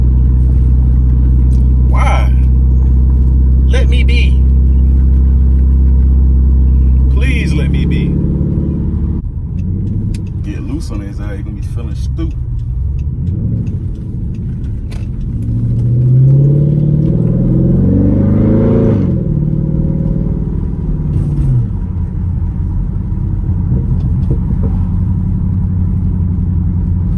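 A 2012 Dodge Charger SRT8 engine idles with a deep, loud rumble, then revs up and drops back several times with rising and falling pitch, while people talk over it throughout.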